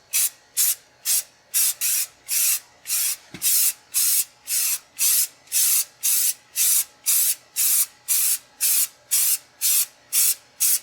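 Rapid bursts of spray paint applying a primer coat to rusty parts of an abandoned Tri-Five Chevy, each hiss short and regular, repeated about twenty times in steady rhythm, close and loud with no talk.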